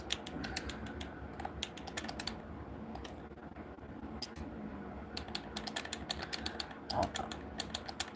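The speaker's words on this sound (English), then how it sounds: "I'm typing here." Rapid clicks of typing on a computer keyboard, close and fairly quiet, in uneven bursts over a low steady background hum, with no one talking.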